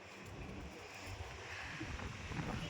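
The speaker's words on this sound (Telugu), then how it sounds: "చాలా గాలి వస్తుంది, జుట్టులు కూడా ఎగిరిపోయేలా ఉన్నాయి." Strong wind blowing outdoors at a height, buffeting the microphone with a low, rumbling roar that grows steadily louder, with no voices heard.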